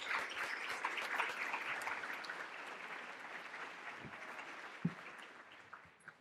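A small audience at a law writing competition event claps for a winner, a faint, steady patter of hands that tapers off with a few isolated claps at the end.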